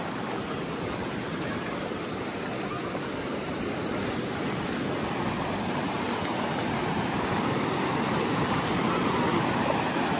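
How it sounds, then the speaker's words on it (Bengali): Big sea waves roll in at Mandarmani beach, a steady, loud roar of surf that fills the whole stretch without pause, with no voices. "বড় বড় ঢেউ আসছে, কিন্তু খুবই বড় বড় ঢেউ"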